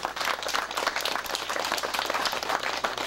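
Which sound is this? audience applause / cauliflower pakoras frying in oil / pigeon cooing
audience applause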